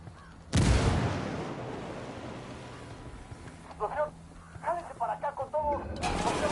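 A grenade explodes in the video game Ghost Recon Wildlands: one sudden loud blast with a rumbling decay, followed by several bursts of voices talking.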